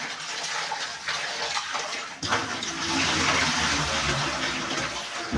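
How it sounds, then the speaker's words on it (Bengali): Rice is rinsed in running water from a tap, a close, continuous gushing and sloshing that briefly quiets, then surges back louder. "চালটা ধুয়ে নিচ্ছি।"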